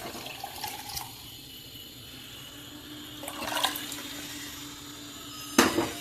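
Lentil cooking water poured into boiling amla (Indian gooseberry) rasam gives a soft, steady liquid pour with a few brief splashes and clinks. It ends in a sharper close clatter, with no talking.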